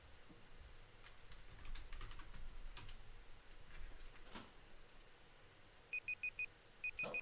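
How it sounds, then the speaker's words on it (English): Two quick bursts of high electronic alarm beeps, four short pulses then a second group, sound near the end, over faint keyboard clicking and room tone during a card game deck-building session. "Oh, that's the alarm."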